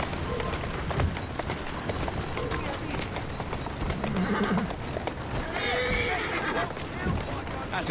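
A horse in Assassin's Creed Syndicate whinnies amid a steady patter of galloping hooves and street bustle, with a person talking over the busy, continuous mix.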